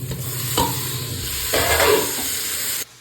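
Goat trotters go into a hot pan of browned ginger and garlic, bringing a steady close sizzle with a couple of sharp stirring scrapes, and no talking.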